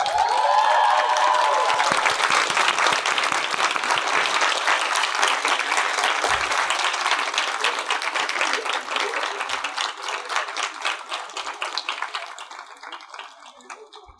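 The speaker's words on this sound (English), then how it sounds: "give a round of applause to the parents, families, teachers, and friends who have made getting here possible" A graduation convocation crowd claps for parents, families, teachers and friends, a loud sustained ovation with a few cheers early on that gradually thins into scattered individual claps and fades out.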